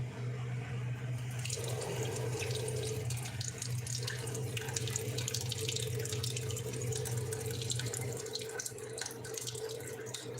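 Water pours steadily from a tap into a bowl, a continuous splashing rush with a low hum underneath and scattered drips toward the end.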